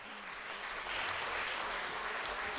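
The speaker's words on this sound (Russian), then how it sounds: "Ваши аплодисменты." A concert audience claps with steady, dense applause that carries across a full hall. It swells slightly after the opening moment and then holds at a constant level, with no voices on top.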